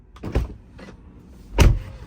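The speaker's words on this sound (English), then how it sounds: "It is an electric actuator to open the door." An electric door actuator on a Tesla Model 3/Y clicks and thumps open, a short mechanical whir followed by a firm latch release, close and alone.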